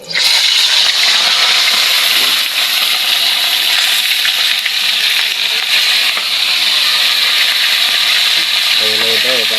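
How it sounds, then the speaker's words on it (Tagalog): Galunggong fish dropped into hot cooking oil, setting off a loud, sustained crackling sizzle that fills the whole stretch, with a brief voice near the end. "Mainit-init na yung ating mantika mga lodi. Pwede na nating ihulog yung"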